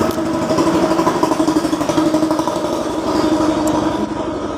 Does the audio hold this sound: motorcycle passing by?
yes